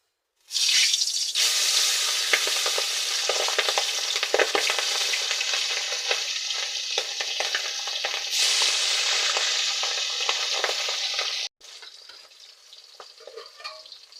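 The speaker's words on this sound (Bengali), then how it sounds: "এবার আমি মাছগুলো কড়াইতে দিয়ে ভেজে নেব।" Pabda fish hits hot oil in a kadai after a moment of silence, bursting into a loud, crackling sizzle with spitting pops that continues for about eleven seconds before cutting off to a quieter simmer.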